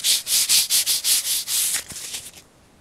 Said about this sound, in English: Buff your leg.